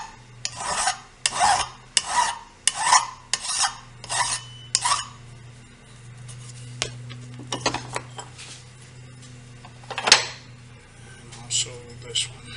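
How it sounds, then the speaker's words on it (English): Rhythmic rasping strokes of a metal file removing a burr left by drilling on a DIY depth gauge, about eight quick scrapes in a row, then a few scattered scrapes and clinks over a low hum. "File. A little burr that was caused from the drilling."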